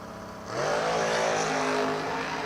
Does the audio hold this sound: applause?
no